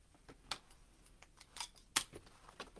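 Scissors give several quick snips through craft material during art journaling, crisp close clicks spaced irregularly with one sharper cut standing out, over a quiet room.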